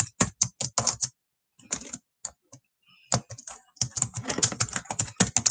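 Rapid keyboard typing in bursts, clicking keys close up, with a short pause midway before the clatter resumes.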